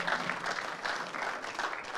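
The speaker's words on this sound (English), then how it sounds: "you guys can give a hand of applause for that" Audience clapping at a Gospel Trick Shots show during the blackball world championships in Coventry, England, a steady dense wash of applause throughout, moderately loud and even.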